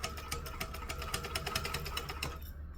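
A sewing machine runs steadily, top stitching and back stitching through fabric with a fast, even mechanical patter and hum that stops abruptly near the end.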